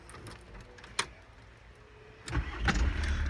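A 2005 VW T4 Autosleeper Gatcombe camper van engine cranks briefly and catches, settling into a steady idle close by after a sharp click, with no talking.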